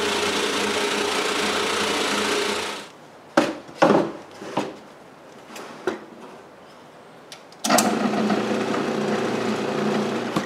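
A drill boring holes in cabinet stock against a stop for inset doors: a steady high motor whine, then a quieter stretch of sharp knocks and clatter as the workpiece is shifted, before the drill runs again.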